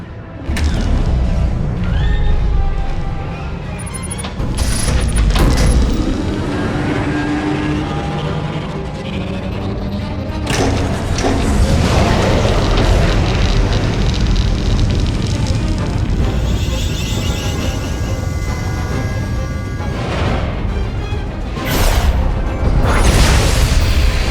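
The Silencer warship fires on an enemy fleet in the SWTOR game, heard as a sustained, loud roar of deep booms and rumbling blasts lasting the whole stretch, with sharper bursts near the start and the end.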